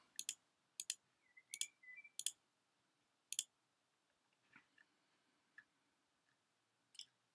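Computer mouse clicks come in crisp double clicks, several in quick succession and then sparser ones, close and faint, with soft faint squeaks in a quiet room.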